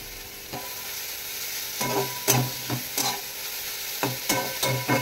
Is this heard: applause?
no